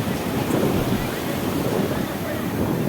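Surf breaks and rushes along a beach shoreline as a continuous broadband wash, mixed with strong wind noise on the microphone, near and steady.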